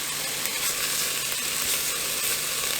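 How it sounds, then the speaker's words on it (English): Meat browning with sweet paprika and a little cayenne for Hungarian goulash, a dense, even sizzle that holds loud and steady throughout, close with no voices. "So now I'm just going to let this finish browning."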